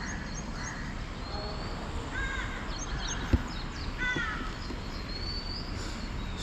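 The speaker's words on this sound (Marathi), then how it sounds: "वेगवेगळ्या पक्ष्यांचे आवाज आपल्याला इथे ऐकायला मिळतात" Crows caw several times over a steady outdoor background, with other birds chirping and whistling at moderate distance.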